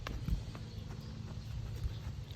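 A horse trots in a circle around its handler during groundwork, its hooves giving a steady clip-clop rhythm of soft thuds close by, with no talk over it.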